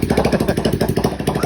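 A drift trike engine running with no exhaust fitted makes a loud, close, rapid chattering putter with a steady pulsing rhythm.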